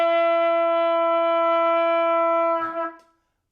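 A single sustained trumpet note, B natural on the middle line of the staff, rings steadily and loud for about two and a half seconds before a brief breathy cutoff and silence.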